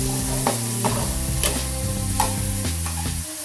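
Beef for Cambodian loklak stir-fries in a hot pan with a loud, continuous sizzle, and a spatula scrapes and taps against the metal at intervals.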